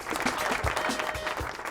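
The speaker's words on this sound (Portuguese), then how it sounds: "Tamo junto, palmas pra Laís." Applause during a running podcast, a small group clapping steadily and fairly close for a couple of seconds, with no voices over it.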